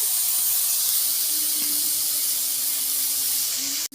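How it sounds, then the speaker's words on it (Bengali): Drumstick flowers fry briefly in a pan with a loud, continuous sizzling hiss that holds steady throughout and cuts off abruptly at the very end. "ফুলটা দিয়ে আমি কিন্তু বেশিক্ষণ ভাজবো না অল্প ভাজবো"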